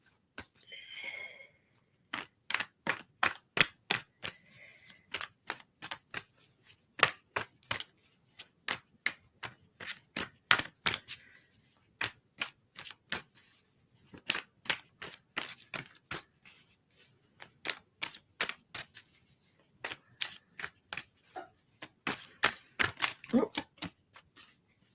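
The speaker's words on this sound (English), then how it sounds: "I usually get an inclination as I start shuffling how many cards you're going to get." Tarot cards shuffled by hand in a quiet room; crisp, close bursts of cards slapping and riffling repeat in an uneven rhythm for about twenty-five seconds, with short pauses between them.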